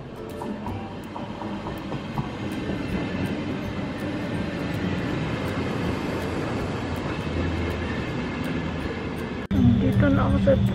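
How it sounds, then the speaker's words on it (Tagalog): A train in Germany pulls away from a station in Frankfurt, a steady loud rumble of rolling wheels and carriage noise, with a brief louder shift near the end. "Makaalis na yung train ko. Kakaalis lang actually."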